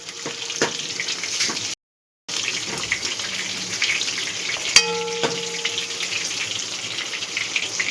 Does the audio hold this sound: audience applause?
no